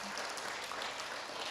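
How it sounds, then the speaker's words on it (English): Dense applause from an elementary school student of the month gathering, a steady wash of clapping that fills the whole short moment. "Give him a round of applause."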